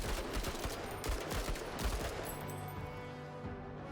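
Gunfire rings out in a tank battle video game on expert difficulty, dense bursts of shots and impacts piling up in the first two seconds before easing into a rumbling battle din.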